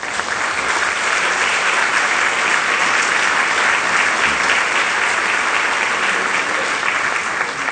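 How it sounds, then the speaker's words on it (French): Sustained, dense applause from a large audience at a closing speech of an ambassadors' conference in France fills the whole stretch at steady loudness, with no voices over it. "que je vous demande d'applaudir"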